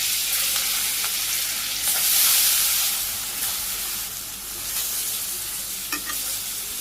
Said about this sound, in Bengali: গরম হয়ে গেছে, আমি তেল দিয়ে দিই, মাছটা ভাজি করুন। মাছগুলো দিয়ে দিই